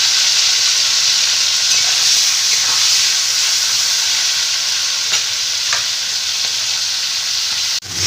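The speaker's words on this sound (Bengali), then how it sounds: "আমি চিংড়ি মাছগুলো ভেজে নেব" Shrimp frying in hot oil make a loud, close, continuous hissing sizzle with scattered crackles and stirring scrapes, briefly cut off near the end.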